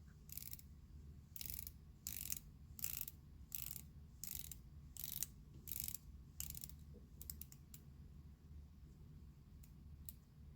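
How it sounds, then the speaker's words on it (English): Watch dive bezel on a modded watch turned by hand, giving quiet, close, crisp ratcheting clicks in short rapid bursts with brief pauses, then a few scattered single clicks. "I'll go ahead and show you the bezel action here."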